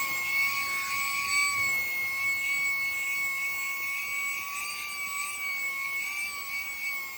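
An xCool cordless handheld car vacuum running in high gear, giving a steady close whine with sharp high-pitched tones over a constant airy rush, holding level for the whole stretch with no talking.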